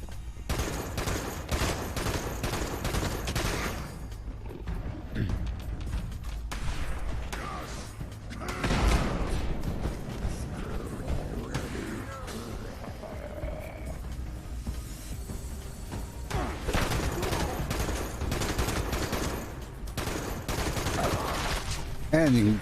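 Sustained weapon fire in Fallout 76, loud and close, sounds as a dense run of rapid shots with heavy thumps and bursts, and a voice talks over parts of it.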